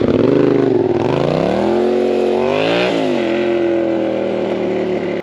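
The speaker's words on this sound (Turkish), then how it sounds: "Şimdi size güzel bir fren örneği yapacağım." A motorcycle roars up close with rising engine revs, the pitch climbing then dropping sharply as the rider brakes hard, the engine settling into a lower steady drone.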